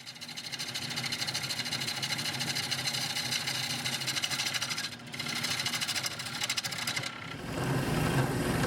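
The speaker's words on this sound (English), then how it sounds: "I can increase the speed of the lathe." A wood lathe spins a curly maple bowl blank at higher speed, giving a steady whirring, vibrating hum with a rapid rhythmic flutter, cutting out briefly twice before resuming; no talk.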